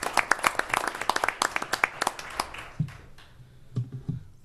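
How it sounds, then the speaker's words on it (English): A small group claps at a township supervisors' meeting, sparse individual hand claps that begin briskly, then thin out and fade to a few scattered claps at close range. "we can give them a round of applause as well."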